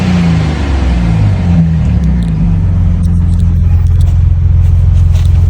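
A Ford Bronco Raptor's twin-turbo V6 exhaust in Baja mode gives a loud, close, steady rumbling drone, with slight rises in pitch, and no talking over it.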